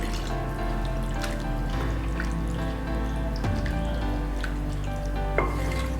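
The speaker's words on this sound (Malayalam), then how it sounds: "നമുക്കിനി തിളപ്പിച്ചാറിയ വെള്ളം 1 കപ്പ് കൂടെ ഇതിലേക്ക് ചേർത്ത് കൊടുക്കാം" A cup of boiled, cooled water goes into a pot of simmering Kerala-style beef curry, giving steady bubbling and soft splashing with faint stirring clinks close by, no voices.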